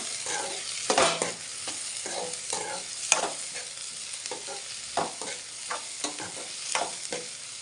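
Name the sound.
onions frying in oil with garlic paste stirred in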